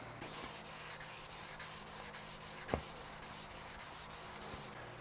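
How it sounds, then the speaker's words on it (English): An electric guitar body being sanded with 600 grit sandpaper, rhythmic back-and-forth strokes at a steady pace, close and fairly quiet, with one brief knock midway and no talking. "Now we're going to go straight from 360 to 600 grit."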